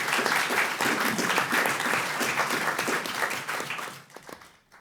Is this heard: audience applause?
yes